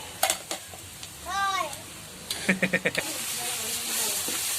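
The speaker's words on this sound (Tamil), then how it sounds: "நல்லா வதக்கணும். பொன் நிறமா வரணும்." Ingredients for chicken biryani sautéing in a pan, with ginger-garlic paste going in, giving a steady close hiss and sizzle, with short clattering stirs or taps, a brief rising whistle-like tone and a few quick clicks.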